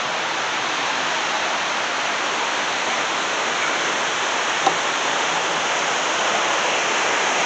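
Steady broadband rushing of flowing water, continuous and even throughout with no talking, like a river heard from close by.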